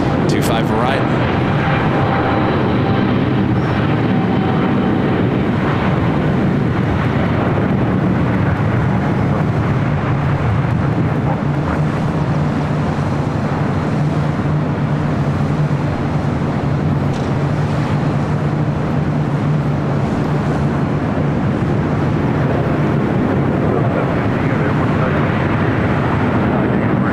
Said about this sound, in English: Pacific, the 777-300ER heading to Hong Kong, now rolling down 25 right